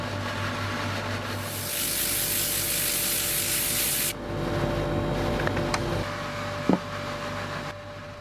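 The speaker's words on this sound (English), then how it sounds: "She's buffing up some new eggs for the store." Wooden eggs being buffed in a woodturning workshop, a continuous whirring, rubbing hiss from a distance that stops partway, leaving quieter room noise with a few small knocks.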